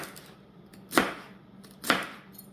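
Two crisp knife chops on a cutting board about a second apart, fairly close and clean with no talking, while preparing beet greens and garlic.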